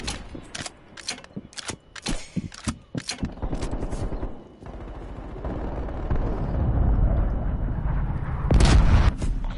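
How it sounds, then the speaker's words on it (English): Sentry turrets fire in a Call of Duty video game battle, sharp rapid bursts of gunfire early on giving way to heavy rumbling blasts and sustained combat noise, loud and close. "Multiple hostile sentry turrets working your AO."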